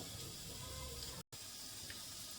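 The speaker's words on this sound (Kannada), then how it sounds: "ಅನ್ನಕ್ಕೆ ಅಂತ ಅಕ್ಕಿ ತೊಳ್ಕೊಂಡಿದ್ದೀನಿ ತೊಳಿಬೇಕು ಇವಾಗ" Rice is washed in water, a faint steady watery swish and trickle with a brief dropout midway, close and quiet, with no voices.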